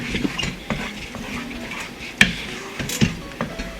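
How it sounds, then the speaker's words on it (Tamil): Ricotta cheese and milk being stirred in a pan over medium heat while cooking palkova, with scattered scraping and clinking of a spoon against the pan, close and moderately loud, no talking. "ஒரு மீடியம் ஹீட்டில் வச்சு இந்த மாதிரி அடி பிடிக்காம கிண்டிகிட்டே இருங்க"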